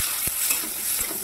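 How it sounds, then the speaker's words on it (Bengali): Chopped onions fry in hot oil with dried red chillies, bay leaf and cumin for a river eel fish curry, a close, steady sizzle with soft stirring scrapes and no talking. "পেঁয়াজটা লাল লাল করে ভাজা হবে।"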